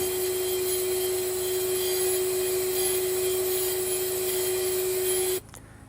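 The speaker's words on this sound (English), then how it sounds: "go back to the bench grinder. We use it to take the bulk off to get it down to a point." Steady high-pitched whine of a bench grinder grinding metal to a point, with a constant buzzing hum, close up, cutting off abruptly near the end.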